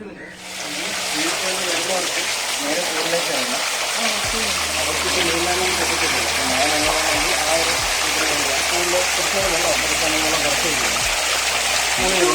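A shower rainbow water feature sprays in a park, giving a steady, full rush of falling water, close and continuous, with faint low thuds of other activity underneath.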